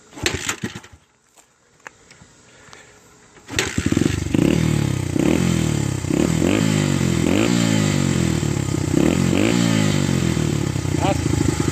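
Motorcycle with a four-stroke engine and a freshly repacked muffler baffle, heard after some quiet handling noise as it starts up and settles into a loud, steady throbbing idle with occasional blips of throttle, a voice briefly audible.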